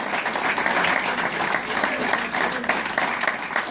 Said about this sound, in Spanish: And give the Lord a clap offering.